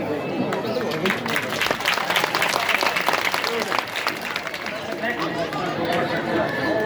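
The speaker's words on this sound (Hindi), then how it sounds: "सभी लोग ताली बजाते जाएं।" A crowd claps continuously, a dense patter of applause mixed with chatter and background voices.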